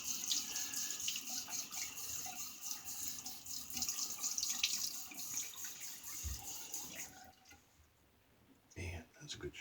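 Tap water runs into a bathroom sink for a post-shave rinse, a steady close splashing stream that cuts off briefly before resuming near the end.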